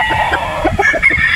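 A Boston Roundhead gamefowl rooster with a straight comb gives a quick series of close, loud clucks and squawks, short and choppy over a brief moment.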